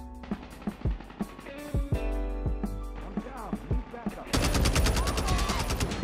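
DR-H rifle fire in COD Mobile crackles in quick bursts of sharp shots, then settles into a dense, loud continuous rattle near the end, with a voice faintly underneath.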